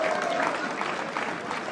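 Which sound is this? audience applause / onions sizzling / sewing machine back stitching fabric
audience applause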